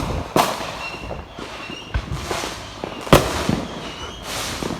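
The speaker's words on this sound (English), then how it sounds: "It's a firework." Fireworks for a Fourth of July celebration bursting outdoors, several sharp loud bangs at irregular intervals with crackling tails between them, some close and some farther off.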